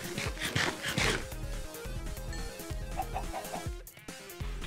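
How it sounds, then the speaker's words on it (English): Chickens cluck in the video game Minecraft, their short clucks sounding amid a busy, steady wash of game audio, fairly near and continuous throughout. "I don't care at all about the chickens"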